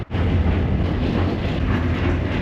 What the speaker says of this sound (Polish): Jadę świątecznym tramwajem.